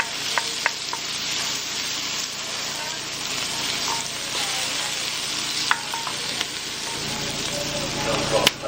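Shallots sizzle steadily in a hot pan during home dinner cooking, a constant crackling fry with occasional sharp pops and light utensil clinks, close and moderately loud throughout.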